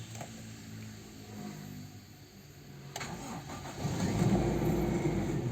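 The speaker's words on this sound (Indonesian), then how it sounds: "Nah, sekali starter langsung nyala." A 1998 Toyota Kijang LGX cranks for a moment and fires on the first try, then settles into a steady mid-pitched idle that grows fuller toward the end, heard up close with no talking.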